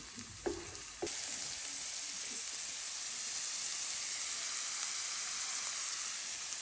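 Mushrooms frying in salt and butter in a pan give a steady, close sizzle and crackle that fills the whole stretch, after a couple of brief clanks at the start; no one speaks.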